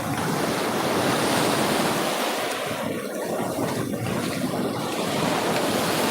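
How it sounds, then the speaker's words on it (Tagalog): Strong ocean surf breaking against the rocky shore of a Davao beach, a loud continuous roar of churning water and wind buffeting the microphone, with surges rising and falling and no talking. "ang lakas ng alon yan"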